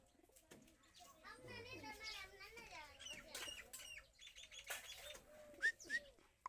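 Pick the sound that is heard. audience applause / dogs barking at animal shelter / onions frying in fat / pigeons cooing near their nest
pigeons cooing near their nest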